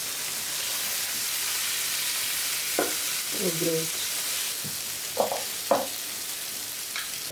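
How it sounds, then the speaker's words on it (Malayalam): Kandhari full fish frying in a pan on low heat, a steady close sizzle with a few soft clicks and bumps from the pan and spatula, no talking. "നമ്മുടെ ഫിഷ് അത്യാവശ്യം ഫ്രൈ ആയി വന്നിട്ടുണ്ട് കേട്ടോ"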